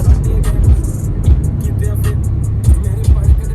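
A car rolls over a large bridge in steady traffic, a loud continuous engine and tyre rumble with periodic thumps, likely expansion joints, and a few brief higher rattles over the drone.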